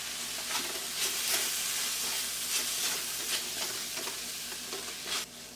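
Vegetables fry in a pan with salt for spring rolls, making a dense, steady sizzle with hissing steam and periodic stirring scrapes, close and continuous, with no talk.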